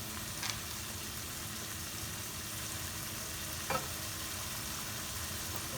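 Potatoes frying in a pan for aloo mutter give a steady, close sizzle throughout, with a couple of brief stirring scrapes standing out, and no talking.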